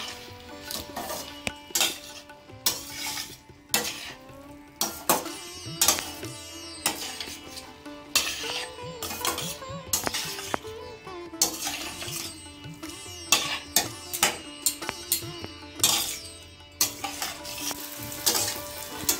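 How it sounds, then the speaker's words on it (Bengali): Spices for vegetarian chana dal frying together in a pan: a continuous sizzle under frequent rhythmic scrapes and knocks of a spatula stirring against the metal, close and steady, with no talk. "2 মিনিটের মতো আমি একটু ভাজা ভাজা করে নেব সব একসাথে"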